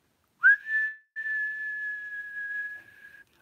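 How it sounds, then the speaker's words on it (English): A single person whistles a long, steady high note on the exhale after a short opening chirp, close and clear against silence. "You're going to whistle"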